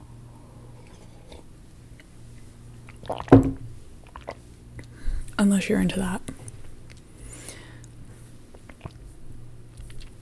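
Yogurt is chewed close to a microphone in two wet, squishy bursts, a brief one and then a longer stretch, with a person speaking between them over a quiet background.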